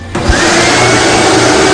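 A vacuum cleaner switches on and roars at full power, a loud steady whooshing drone close by, sucking up popcorn continuously with no voices.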